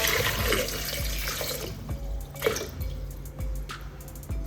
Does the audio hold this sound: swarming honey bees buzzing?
no